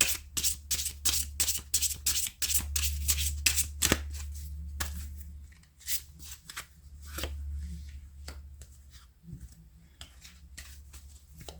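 Tarot cards are shuffled in quick riffling bursts and crisp taps, close up, with a few slower flicks toward the end and no talking.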